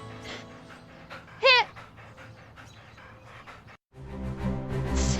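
Military working dogs panting steadily with a brief rising whimper, then a rougher, louder stretch of breathing near the end.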